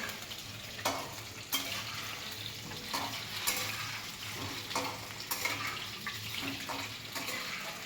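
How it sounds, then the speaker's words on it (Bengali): Potatoes for a traditional Bengali mutton curry frying in hot oil, a steady close sizzle with periodic spatters and stirring scrapes across the whole stretch, no talking. "লাল লাল করে ভেজে নেবো বাবা তেল ছিটকালো"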